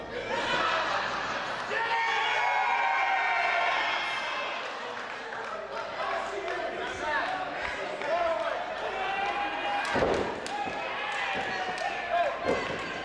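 A wrestling crowd at a hardcore match chants in support of Warhorse, a loud sustained rhythmic roar of many voices filling the arena, with thuds from the ring and a commentator talking over it.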